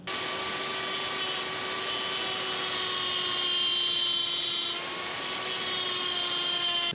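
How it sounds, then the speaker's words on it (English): A large power tool grinds steadily through the metal of an AliExpress motorcycle swingarm, a continuous high-pitched whine that holds nearly unchanged for about seven seconds, close and loud. "I think I'm gonna cut away the swing arm."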